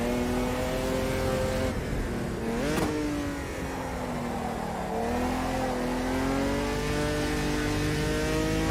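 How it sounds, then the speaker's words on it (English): Six-cylinder race car engine in the Automobilista 2 video game, a steady revving drone with a quick downshift blip and drop in pitch, then climbing again as it accelerates, continuous and without talk. "It's got that nice 6-cylinder engine as well"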